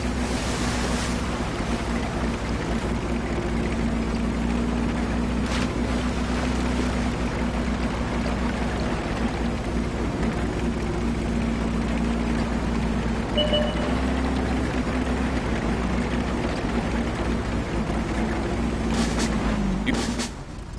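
Tank engine droning steadily while driving through swampy terrain in World of Tanks, a continuous low rumble with churning, watery wash and a few brief clunks over about twenty seconds.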